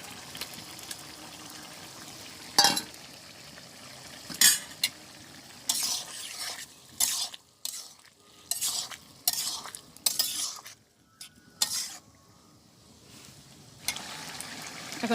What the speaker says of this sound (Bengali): তো আমি এবারে মাছটা দিয়ে দিই।